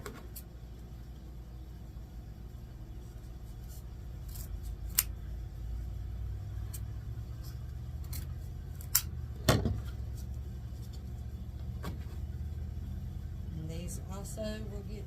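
Scissors snip pieces for a wreath bow, giving a few sparse, faint cuts over a steady low hum, with a person talking nearby.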